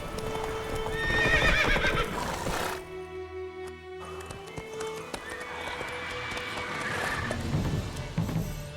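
In The Witcher 3, the horse Roach gallops with a rhythmic clip-clop of hooves, then whinnies loudly near the start, before a short lull and a return of hoofbeats with game ambience, no talk.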